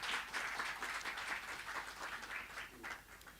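Faint, distant applause at an annual general meeting, a steady wash of clapping hands lasting a few seconds without voices.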